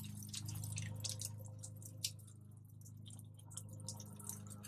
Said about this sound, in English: Somebody is running some water or something.